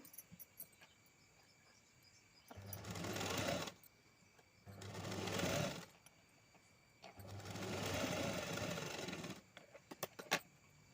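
A sewing machine stitches a blouse sleeve in three bursts of rapid, whirring needle action. Each run lasts a second or two, separated by quiet pauses, with faint clicks around the edges and no talk.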